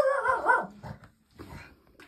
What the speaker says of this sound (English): My dog saw the dogs next door